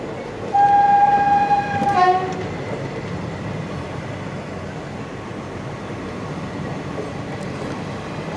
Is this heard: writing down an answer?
no